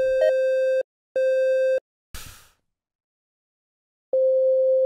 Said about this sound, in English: We're gonna play a sine wave again.